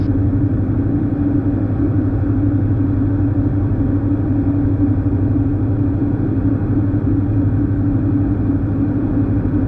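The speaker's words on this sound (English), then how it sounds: "See what I mean about airplane noises." A steady, loud engine drone fills the cabin of a Diamond DA42 twin-engine light airplane in flight, an unbroken low hum and rumble that holds constant throughout with no voices.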